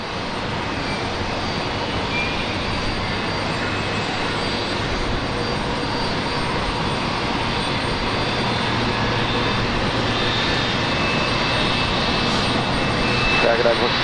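A Qantas aircraft lands on runway 19 right at Brisbane Airport. Its engines give a steady, continuous roar throughout, and voices talk over the noise.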